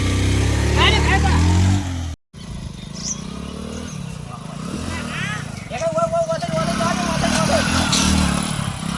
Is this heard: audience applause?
no